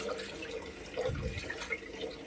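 Tap water runs and splashes over cut fish pieces being washed by hand, with soft uneven gushes and drips close by.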